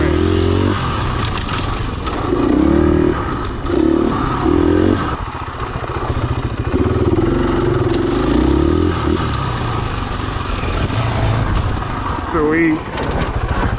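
A KTM 500 EXC-F four-stroke dirt bike rides over a bumpy trail with a rough engine note that surges and throttles. Clattering knocks and scrapes come from the terrain, and a rider talks over the engine throughout.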